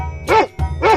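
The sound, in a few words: dog barking in animal slide video game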